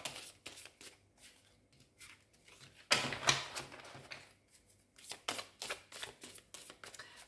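Tarot cards being shuffled by hand, close up, in quick papery riffles and flicks, with a denser burst midway and more rapid clusters toward the end.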